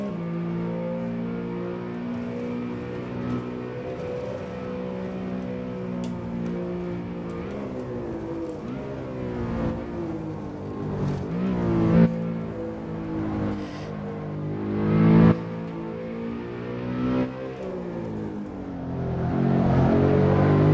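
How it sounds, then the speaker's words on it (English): Sabine Schmitz's Ring Taxi roars around the Nordschleife in a racing game, its engine droning steadily then revving up and down through gear changes, loud and close throughout. "We got a louder engine sound now."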